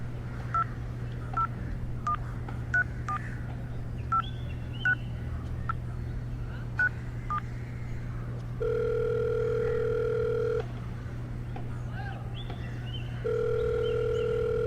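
A telephone number is keyed in as a quick series of short touch-tone beeps, followed by a long steady two-tone line signal that sounds twice with a pause between.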